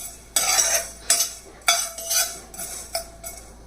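Fenugreek seeds frying in a pan for an old-style tomato pickle, stirred with a metal spoon that gives several bright scraping clinks in irregular bursts, close and fairly loud with no talk.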